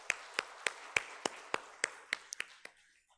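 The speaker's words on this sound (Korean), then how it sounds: "우리 구역장님들 더 잘하시도록 다시 한번 격려와 축복의 박수 하겠습니다" A church congregation claps about ten times in a slow, even rhythm; the sharp claps are close and clear, then fade out.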